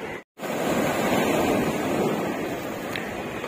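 Ocean waves break on the shore at Galle Face in Colombo, Sri Lanka, a loud, continuous wash of surf mixed with wind buffeting the microphone.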